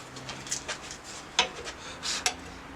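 A steel card scraper has its edge burnished to a fresh burr while finishing a small dogwood live-edge bowl: a few faint, quick metallic rubbing strokes, scattered and quiet.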